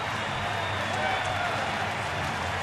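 A sellout baseball crowd at Miller Park in a Brewers game against the Cardinals: a broad, steady roar of cheering and clapping from a large stadium, with no break through the short clip.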